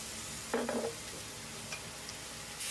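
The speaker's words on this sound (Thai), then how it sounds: "เราก็จะผัดให้รสชาติมันเข้าเครื่องไปอีกสักเล็กน้อยนะครับ" Pork and sweet peppers are stir-fried in a pan with oyster sauce and seasoning, giving a soft hiss with a brief burst of scraping and clinking from stirring, fairly quiet and close.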